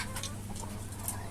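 Desi free-range chickens on a farm cluck softly in a short, faint burst of overlapping calls with a low background hum.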